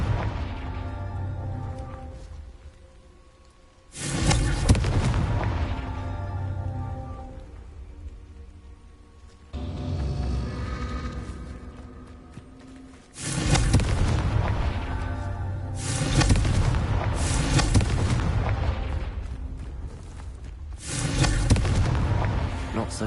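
Repeated Confringo fire-spell blasts in the video game Hogwarts Legacy, loud booming bursts that come in several waves with crackling, rain-like debris between them, while a player talks over the action.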